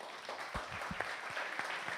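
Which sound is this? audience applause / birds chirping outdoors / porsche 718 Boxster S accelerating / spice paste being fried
audience applause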